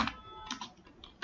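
Keys clatter on a computer keyboard while text is entered in MS Word, a quick, close run of faint, uneven taps with no voices.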